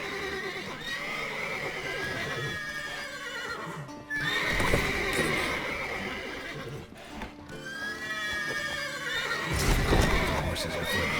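Horses in a video game neigh and whinny repeatedly over steady clip-clopping hooves, loud and close, with the calls rising in separate bursts across a continuous busy background.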